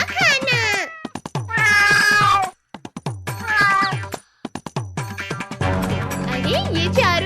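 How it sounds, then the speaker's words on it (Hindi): A cartoon cat meows repeatedly in a desi comedy animation, loud, drawn-out voiced cries in several bursts separated by short gaps, with a brief stretch of other sound near the end. "अरे नहीं, ये बिल्ली तो चिड़िया खाने आई है।"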